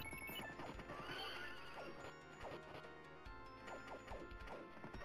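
Horse neighs in the Capcom arcade brawler Knights of the Round, sharp whinnies repeating amid galloping clip-clop, smashing and whacking combat effects and game music, all at a busy constant level.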